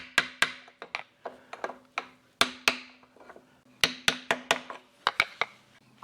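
Light hammer taps seat a differential dust cap on a 1978 Silver Anniversary Corvette, about twenty sharp, close metallic knocks in uneven bursts with short ringing decays and no talking.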